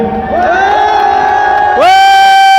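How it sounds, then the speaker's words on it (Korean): A crowd at a Korean political rally outside the Hyundai E&C headquarters beside the Constitutional Court lets out loud, sustained cheering and whooping shouts that swell in two waves, close and dominant. "박수 한번 해주세요."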